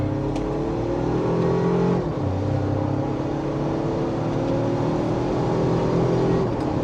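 A 2025 Toyota 4Runner Trailhunter in sport mode pulls hard in second gear, its engine note climbing steadily, dipping briefly at a shift, then rising again in a loud, continuous drone with no talking.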